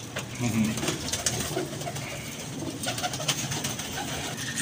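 Pigeons coo softly nearby in low, rounded calls, with scattered clicks and handling noises around them.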